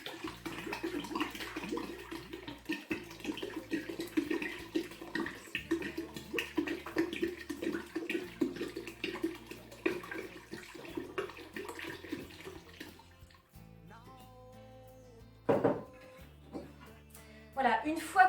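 Water pours steadily into a container while making homemade naturally fermented lemonade, a soft continuous splashing running under a person's talk, then stopping near the end.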